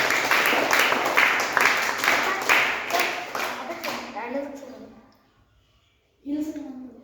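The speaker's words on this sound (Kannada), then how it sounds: "ಸರಿಯಾದ ಉತ್ತರ. ಚಪ್ಪಾಳೆ." A classroom full of children claps for a correct quiz answer. Dense applause rings out for several seconds, fades away into silence, and then a voice starts speaking.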